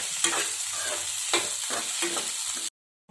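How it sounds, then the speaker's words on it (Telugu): Vermicelli frying and being stirred in a pan for upma, a steady sizzle broken by several scraping stirs, close and fairly loud, with no talking, cutting off abruptly near the end. "బాగా వేయించుకుందాం"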